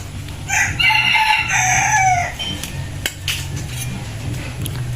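A native rooster gives one loud, close crow lasting about two seconds, followed by faint clinks of kitchen dishes and utensils.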